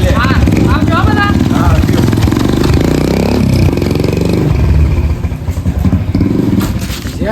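A motorcycle engine revs and runs close by in a steady, loud roar under clattering and thumping, with voices talking over it throughout.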